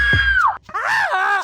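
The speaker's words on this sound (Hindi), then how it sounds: "अब जरा चिल्लाइए" A man yells loudly on command, two strained, wavering vocal bursts separated by a brief gap, close and forceful with a groaning edge.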